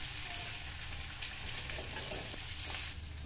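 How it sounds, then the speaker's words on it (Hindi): Onions frying gently over medium heat in a pan while cooking rajma, a steady broadband sizzle that holds even throughout, close and moderately loud, with no voices. "प्याज को ज़्यादा हमें भूनना नहीं है, ज़्यादा ब्राउन नहीं करना है, प्याज को हल्का सा नरम करना है"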